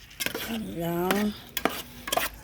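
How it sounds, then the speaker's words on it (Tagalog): Chicken and tomatoes being sautéed in a pan for a chicken caldereta, with a spoon stirring and scraping through the food over a light sizzle, plus a few sharp clicks of the utensil against the pan. "Igisa muna natin yan ang kasaglit dyan sa kamatis."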